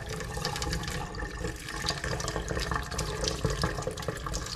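Water runs steadily from a tap inside a building in Mariupol, a continuous hissing splash with no talking.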